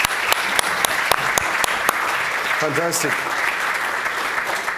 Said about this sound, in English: I think the gentlemen all have earned a round of applause.